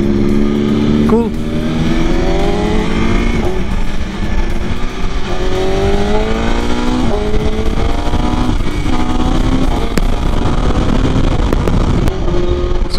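A BMW S1000RR motorcycle engine drones steadily while riding, rising and falling through repeated gear changes in a continuous, moderately loud tone with wind noise underneath.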